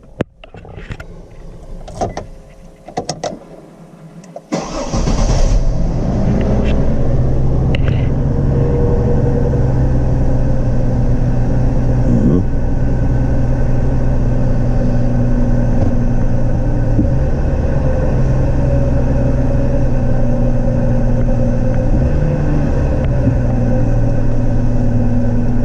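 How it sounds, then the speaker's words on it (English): A GMC Envoy being checked for low oil pressure cranks and catches, then settles into a steady, loud idle with a continuous low rumble that holds unchanged to the end. Scattered clicks and handling noises come before the start. "let's go ahead and get the car started up."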